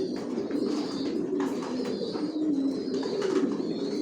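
Racing pigeons coo in a loft, a soft layered burble of several birds close by with a few faint higher chirps.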